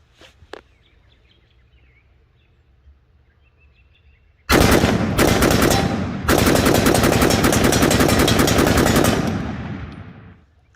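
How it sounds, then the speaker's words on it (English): A Ruger SFAR rifle fires rapid strings of loud outdoor gunshots at a steel plate, with one short burst and a brief pause followed by a long unbroken volley that fades out. "I'm gonna go after that plate again, and I'm gonna try to get really high speed on it."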